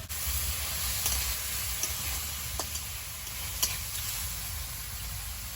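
Chopped onion, ginger and garlic sizzle in a pan once the added water has cooked off, a steady close-up hiss with a few faint ticks and spatters and no talking.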